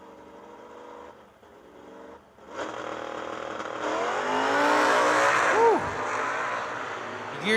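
Drag-racing Chevrolet Nova launching at full throttle at the Yellow Bullet Nationals, starting as a distant rumble, then building into a loud harsh roar with rising gear-change sweeps and a sharp pitch drop near the end, crowd noise behind.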